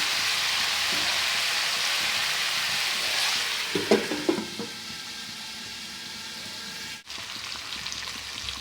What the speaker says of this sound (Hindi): हम इन्हें फिर ढककर भूनने देते हैं।